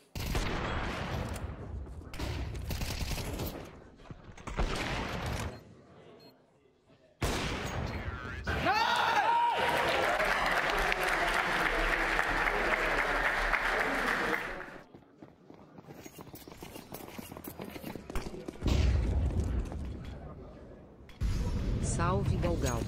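Crowd applause and cheering at an esports match, Complexity versus MOUZ in the ESL Pro League semifinal on Vertigo, swelling in long bursts between stretches of commentators talking.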